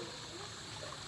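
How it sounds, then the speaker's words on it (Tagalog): A strong natural spring gushing out of the ground in a rural Philippine village, its water steady and continuous, a soft unbroken trickling rush with no voices. "Grabe ka kusog ang tubod."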